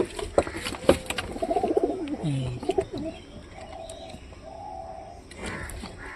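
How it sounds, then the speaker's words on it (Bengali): Pigeons coo in a loft, with soft low coos and some chirps near at hand, alongside faint rustling and a few knocks. "তো কবুতর লপটির ভিতর আরও একটা সদস্য আসছে"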